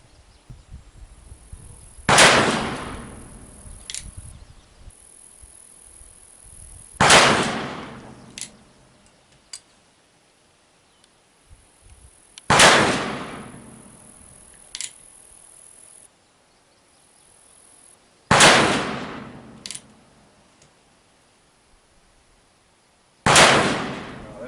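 Five loud, sharp shots from an Uberti Walker revolver at an outdoor 50-yard range, spaced roughly five seconds apart, each with a trailing echo and quiet pauses in between.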